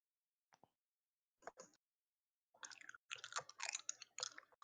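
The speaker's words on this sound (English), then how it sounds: "Every time you chew or do whatever you're doing, I hear it and it drives me bonkers." Close, crunchy chewing of hard candy, a few isolated crunches at first and then a dense run of cracking bites, faint and with no talking.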